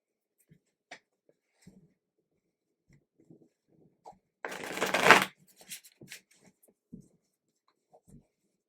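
Tarot cards shuffled by hand in one quick, close riffle lasting about a second, set between faint handling taps and rustles, with no one talking over it.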